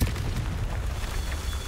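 An explosion spell goes off in the fantasy video game Hogwarts Legacy, giving a deep, sustained rumbling boom that fills the whole stretch at steady loudness, with no talk over it.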